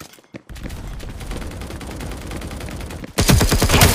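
Rapid gunfire bursts from the mobile shooter game Hyper Front, loud and close, with a dense stream of shots after a brief gap and a sharper, louder burst near the end.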